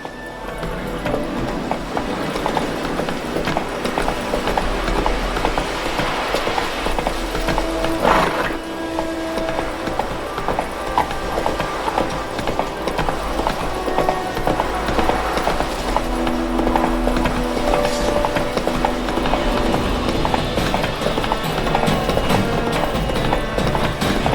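A horse gallops in The Witcher 3, its steady clip-clop of hooves running continuously and fairly loud over a dense game soundscape of wind and ambience, with a brief voice faintly present.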